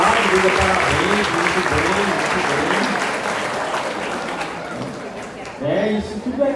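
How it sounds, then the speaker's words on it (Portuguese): Audience applause at a church evangelization gathering, steady clapping from a crowd that fades slightly midway, with voices talking and cheering over it and a brief swell near the end. "E você pode dar uma salva de palmas para você também."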